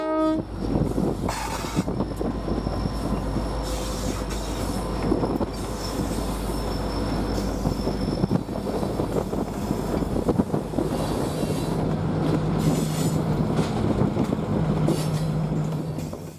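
A Kyle Railroad MK50-3 diesel locomotive rolls past with its train, a loud continuous rumble of engine and wheels close by, with wheel squeal and wind buffeting the microphone.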